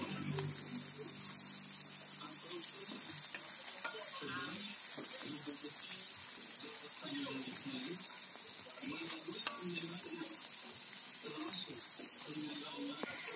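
Taiwanese-style crispy fried chicken sizzles steadily in hot oil, a dense, even crackle with small pops running throughout, fairly close and unbroken.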